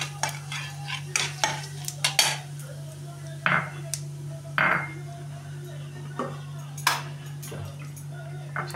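Bay leaves and whole white cumin tempered in hot oil for a Bengali chitol fish dish: a low steady sizzle punctuated by repeated sharp clinks of a utensil against the pan, with a faint hum underneath.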